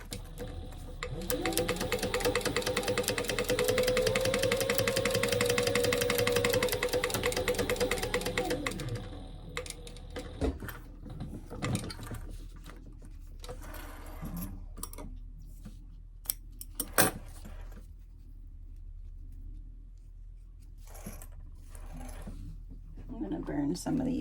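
A sewing machine runs steadily for several seconds, stitching an eighth-inch seam across the top of a fabric train case, then stops, leaving scattered small handling clicks and taps.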